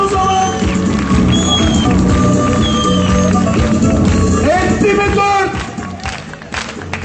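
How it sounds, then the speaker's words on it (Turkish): At the opening of an election office in Arsuz, Hatay, a crowd applauds and cheers amid music and babble, loud and dense before thinning out near the end. "Alkışlıyoruz."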